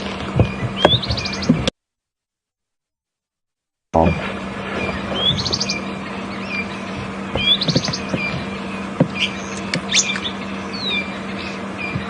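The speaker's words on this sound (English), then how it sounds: "there's a lot of birds calling at the moment" Many birds call around a safari vehicle at Djuma Game Reserve, with repeated bright chirps and short trills near and far over a low steady engine hum, broken by a brief silent gap.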